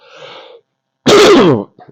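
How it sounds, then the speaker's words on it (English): A faint breath, then one loud, harsh cough up close, followed by quiet. "I'm going to cough my way through this"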